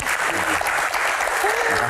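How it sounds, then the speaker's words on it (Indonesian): An audience at a disaster-management Q&A event claps for the evening's main guest, a brief, full burst of applause with faint voices mixed in. "langsung saja kita berikan tepuk tangan untuk aktor utama kita malam ini"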